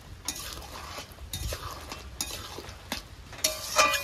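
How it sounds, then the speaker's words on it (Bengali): A soybean curry with a cashew and melon-seed paste is stirred in a pan, with repeated scraping strokes and light utensil clinks over a soft sizzle, ending in a sharper metallic clink. "এবার তরকারিটা ভালো করে নেড়ে চেড়ে নেব"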